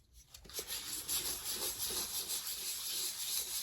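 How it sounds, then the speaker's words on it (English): Sandpaper rubs over an old, yellowed coaster in quick, even back-and-forth strokes, a close, dry scratching that keeps going without a break; no voices. "But this sandpaper should take that off"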